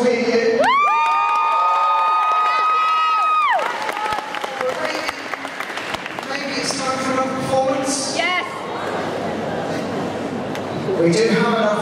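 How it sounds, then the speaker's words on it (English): A cosplay masquerade crowd at a convention expo cheers and applauds, with harmonic whoops and shouts rising early before giving way to sustained clapping and chatter, loud and close throughout. "Round of applause for all of them"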